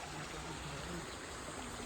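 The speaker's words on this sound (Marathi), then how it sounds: "हा ओढा आहे." A small stream beside an areca nut plantation in Dapoli, Konkan, flows with a steady, faint trickling wash. A soft voice speaks underneath.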